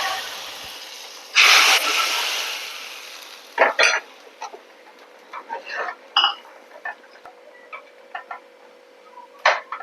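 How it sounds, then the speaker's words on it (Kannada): A short, loud burst of sizzling as tempering spices hit hot coconut oil while a mango saaru is being finished, followed by scattered clinks and light kitchen clatter. "ಒಗ್ಗರಣೆನ ಈಗ ಹಾಕ್ಕೊಳ್ಳುವ."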